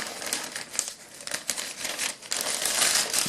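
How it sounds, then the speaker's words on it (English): Adhesive strip being peeled and a plastic bag seal folded down for a fitness sandbag filler bag: close, continuous crinkling and rustling of plastic with a few sharper crackles, and no talking. "So I'm going to peel off the adhesive, fold it down"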